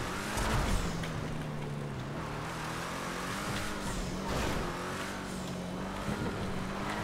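A wide car in a Grand Theft Auto–style game drives along with a steady, low engine drone that rises and falls slightly, continuous and fairly close, with no talk over it.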